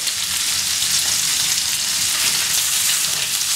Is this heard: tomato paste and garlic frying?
yes